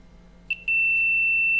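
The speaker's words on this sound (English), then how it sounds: "while this is beeping" A continuity tester on an electrical circuit through a push button sounds two short beeps, then a steady high continuous tone that holds to the end.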